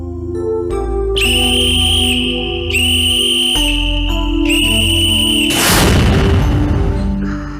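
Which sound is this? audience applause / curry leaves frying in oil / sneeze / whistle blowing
whistle blowing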